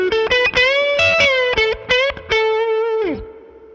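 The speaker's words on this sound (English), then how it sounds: "It takes distortion really well." Electric guitar played through a distortion pedal on a pedalboard rings out in short chopped chords and then one longer chord that fades away, loud and close with no talking.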